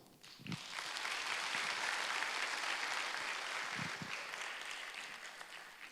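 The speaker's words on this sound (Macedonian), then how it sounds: "Аплаузот може да трае" Steady applause from a large crowd, sustained and fairly even throughout with no voices standing out.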